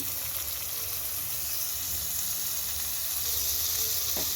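Butter melting in a pan for paneer butter masala gives a steady, even sizzle and hiss, close and constant, with no talking.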